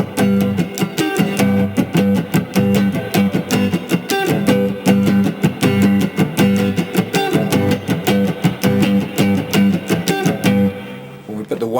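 Rhythmic, choppy electric guitar playing the intro of a song without a wah pedal, muted, percussive strums in a steady funky groove, up close with slight distortion and no voices.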